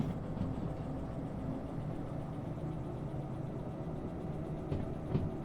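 A long freight train in the Derail Valley video game rolls along its rails with a steady low rumble and drone, easing slowly around a curve, with faint clanks near the end.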